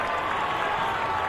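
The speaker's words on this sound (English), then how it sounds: "And the crowd liked that one. A lot of fans here on their feet for Aaron Judge's" Baseball crowd at a Yankees versus Athletics game cheering and applauding Aaron Judge's home run, a broad sustained roar of many fans with no gaps.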